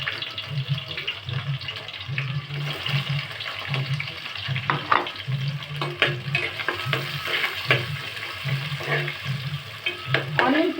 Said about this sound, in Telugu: ఇవి కొంచెం ఫ్రై అయిన తర్వాత ఇందులో ఆనియన్స్ వేసి బాగా వేగనివ్వాలి